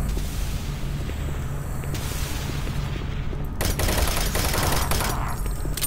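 Gunfire and heavy booms from Doom 3 combat roll on steadily throughout, with a sharper, louder flurry of shots breaking in during the second half.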